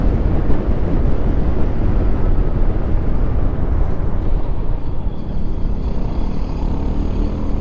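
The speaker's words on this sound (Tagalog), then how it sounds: "Sumisipol yung hangin. Lakas." Strong wind sweeping across a beach, buffeting the microphone with a loud, continuous, rumbling roar that holds steady throughout, with no voices.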